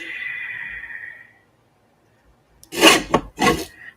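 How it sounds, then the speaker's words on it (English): Decal trimmer cutting along the edges of a handmade Dalmatian black-and-white journal, a few short crisp rasping strokes close up after a brief quiet pause. "let me grab the decal trimmer because we're going to decal this all the way around"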